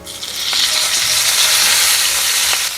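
Curry leaves crackle and sizzle loudly in hot oil for a pumpkin sambar tempering, a dense continuous hiss with occasional sharper pops, close up.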